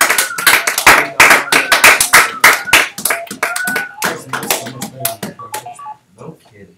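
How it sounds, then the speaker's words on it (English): A small group gives a round of applause, sharp, uneven claps that start strong and thin out to scattered single claps, with voices talking over them toward the end. "let's give her a nice round of applause"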